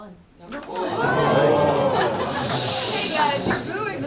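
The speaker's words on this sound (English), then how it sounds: "Hey guys, you're booing, but this is just one person." A crowd boos at a lottery draw for The Wave, a loud sustained jeer of many voices that swells and then fades over a few seconds.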